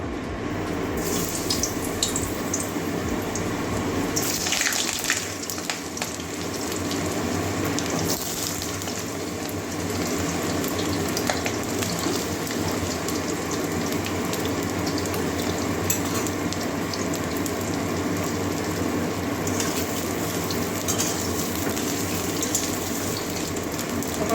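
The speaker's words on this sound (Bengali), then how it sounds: "তেল গরম হয়ে গেছে এবারে পটলগুলো আগে ভেজে নেবো" Pointed gourd pieces frying in hot oil for a potato and soybean curry, giving a loud, continuous, hissing sizzle that runs unbroken for over twenty seconds with a few rattling clinks and no voices.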